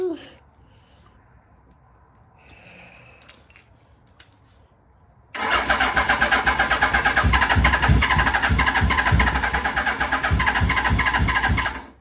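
A Suzuki GS850 motorcycle engine, choke partly on, catches after quiet fiddling and settles into a loud, steady, close-up idle with a fast rhythmic pulse that runs to the end.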